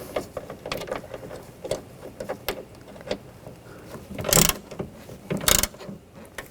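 A ratchet snugging down bolts on the rear window regulator of a 2004-2009 Audi A4 Quattro, scattered clicks and clanks close up, with two louder bursts of rapid ratcheting near the end.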